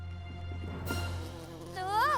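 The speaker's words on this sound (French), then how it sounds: "Il y a encore une abeille." A bee in an animated children's road-safety cartoon buzzes, swelling into a wavering, close, rising drone near the end over a low background hum.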